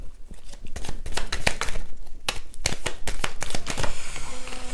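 Tarot cards being shuffled by hand, a loud, rapid run of crisp riffling flutters with brief pauses between bursts and no voices.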